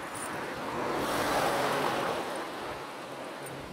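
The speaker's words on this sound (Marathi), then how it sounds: "किती सुंदर निसर्ग सगळं भारी नदी वाहते." A river in the Narmada region flows with a steady, broad rushing wash, fairly close and continuous, rising slightly in the middle with no voices.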